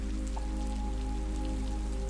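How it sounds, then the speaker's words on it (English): Heavy rain falls steadily outside a cabin window in the woods, a dense, continuous patter with no break, set against a low, constant hum. "The rain is now falling heavy, and the wind blowing through the trees is more pronounced"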